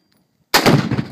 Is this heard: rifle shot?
yes